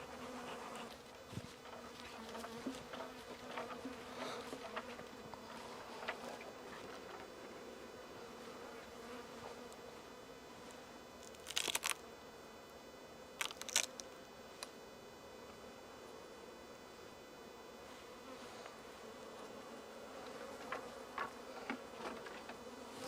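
Honeybees buzzing around an opened hive during frame work, a faint continuous hum with occasional close buzzing passes and light clicks of handling.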